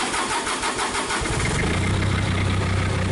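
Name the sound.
Cummins engine starting and running in Komatsu PC40 excavator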